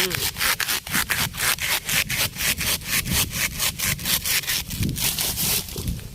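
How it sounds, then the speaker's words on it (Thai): A hand saw rasps steadily through a hollow bamboo stalk, fast rhythmic back-and-forth strokes, close and loud, with faint voices briefly in the background. "ใช้เลื่อยแบบนี้แหละเลื่อยที่ใช้ตัดไม้ค่ะ"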